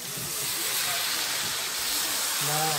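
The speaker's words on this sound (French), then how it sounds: "on rajoute un petit peu de l'eau là où ça se déglace un petit peu" Water hits a hot pan to deglaze a wild boar civet, giving a loud, steady steam hiss that fills the whole moment, with a low voice briefly audible near the end.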